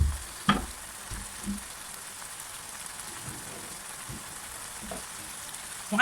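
A little oil sizzling in a pan before pasta goes in, a soft steady hiss with a few light clicks and bumps of the pan nearby, no voices.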